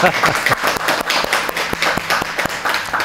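Audience clapping at a Korean life-advice talk, a brief burst of scattered claps mixed with laughter and voices, fairly close and moderately loud.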